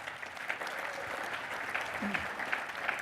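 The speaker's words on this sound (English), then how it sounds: "How about a round of applause for Gene, you guys?" A seminar audience applauds steadily at moderate loudness, an even patter of many hands throughout, with a brief voice or cheer rising partway through.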